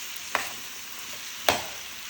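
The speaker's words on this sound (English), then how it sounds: "Just let it saute for a bit." Tomatoes sauté in a pan for a vegan curry, giving a soft, continuous sizzle broken by two brief scraping stirs about a second apart, close and fairly quiet with no talking.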